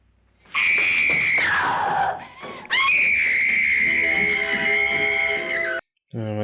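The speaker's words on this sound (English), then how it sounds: "Oh my gosh, with the screaming again." Screams from the 1959 horror film House on Haunted Hill ring out loud and sustained, a long piercing wail that rises and falls, breaks off, then resumes at full strength for several seconds before cutting out.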